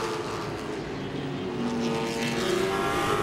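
Late model race cars running side by side between turns at Langley Speedway, engines droning with a rising whine as they pass, loud and sustained against crowd ambience.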